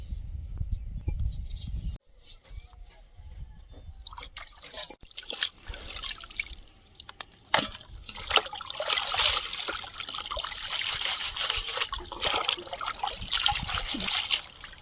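Leafy greens washed by hand in a basin of water, with close splashing, sloshing and trickling that run on irregularly for over ten seconds after a brief low rumble at the start.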